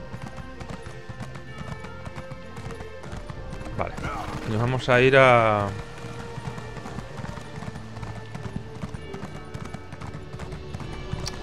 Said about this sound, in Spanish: Vamos a coger nuestra montura.